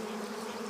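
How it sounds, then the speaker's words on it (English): A dense, continuous drone of stingless bees humming inside their hive in a tree cleft, steady and unbroken throughout. "A never-ending hum resonates from within the cleft. It's the perfect spot for these stingless bees to construct their hive."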